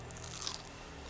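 A crunchy fried Indonesian vegetable fritter (bakwan) bitten once, giving a short crisp crunch near the start, followed by quieter chewing.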